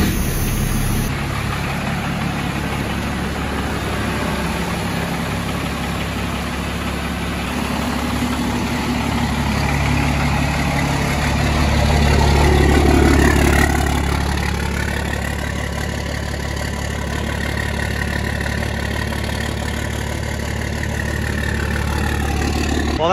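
A 24-valve Cummins diesel pickup truck engine with a straight-piped exhaust idles steadily while warming up, a deep, low rumble that swells briefly in the middle before settling back to an even drone.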